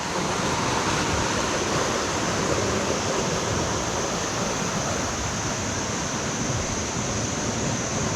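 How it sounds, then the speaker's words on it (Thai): Mae Tia waterfall in Op Luang National Park gives a steady, dense roar of falling and rushing water, loud and unbroken throughout, with no voices over it. "สัมผัสธรรมชาติน้ำตกแม่เตี้ย"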